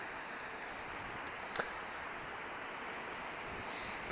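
Sea waves run up the shore as the tide comes in, a soft steady surf wash with a brief sharp splash partway through, quiet and unbroken.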